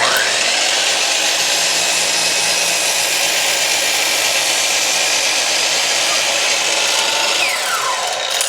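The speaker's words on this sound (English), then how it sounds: "I've got my saw setting at 45 degrees. We're going to cut every corner of this thing at 45 degrees" A miter saw set at 45 degrees cuts into a 4x4 wooden post to form a pyramid-shaped end, a loud continuous high whine and rasping bite through the wood lasting several seconds, close up and alone.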